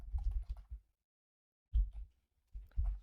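Short bursts of quiet computer keyboard typing, soft close key clatter in two or three quick clusters separated by pauses, no talk.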